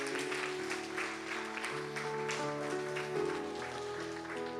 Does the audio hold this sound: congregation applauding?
yes